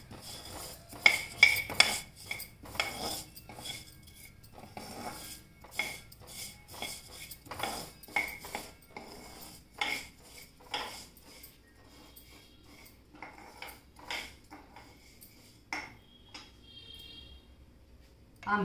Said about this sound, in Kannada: ಮೆಂತ್ಯನ ಹೀಗೆ ಸ್ವಲ್ಪ ಕೆಂಪಾಗೋವರೆಗೂ, ಗಮ್ ಅಂತ ಸ್ಮೆಲ್ ಬರೋವರೆಗೂ ನೀವು ಹುರ್ಕೊಳ್ಬೇಕು